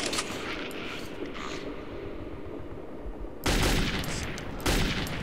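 Video game gunfire from Metro 2033, loud bursts of shots with rumbling echoes, a denser volley erupting midway and another surge near the end, no talk.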